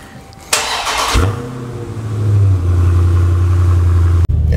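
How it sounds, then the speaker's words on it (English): A Chrysler 300 sedan is cold-started after sitting for several days: a brief starter crank bursts in, then the engine catches and settles into a steady, loud idle close by, with no talking. "let me give y'all a cold start"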